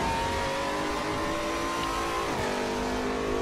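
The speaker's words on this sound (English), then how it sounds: "Fast downshifting, little bit of drifting, and early on the throttle, using all the curbs." A race car engine in the RaceRoom racing game screams at high revs, then drops pitch sharply on a fast downshift and climbs again, loud and continuous with no talk.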